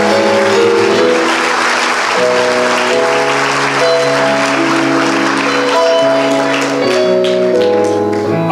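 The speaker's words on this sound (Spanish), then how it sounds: "Dale un aplauso al Señor." Church congregation applauds during a Spanish-language sermon, with broad sustained clapping over loud organ or keyboard chords held throughout, both strong and continuous.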